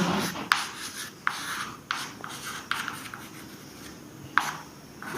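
Chalk or marker scratches across a board during a chemistry lecture, in short rubbing strokes with brief sharp taps between them, close and moderately quiet, and no talk over them.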